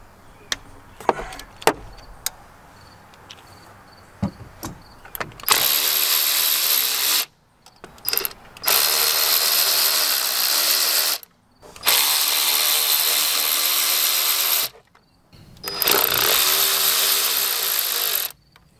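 The final bolt on a diesel injection pump is loosened with a ratchet or power tool, several loud sustained bursts of buzzing mechanical rattle separated by short pauses, preceded by scattered clicks and knocks of the tool being positioned.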